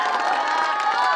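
A rally crowd cheering and shouting in a dense, sustained roar, with whistling tones, close and loud for about a second.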